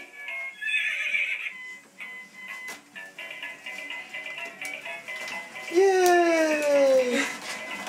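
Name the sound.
toy ride-on horse neighing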